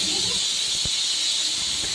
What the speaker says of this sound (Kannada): ಇವಾಗ ನಾನು ಒಂದು 2 ವಿಷಲ್ ಹಾಕಿದ್ರೆ ಸಾಕು.